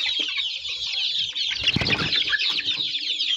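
Pure free-range country chicks chirp and cheep continuously and up close, with a few deeper clucks and brief wing flutters from the flock mixed in.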